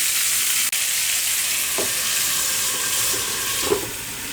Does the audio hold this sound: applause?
no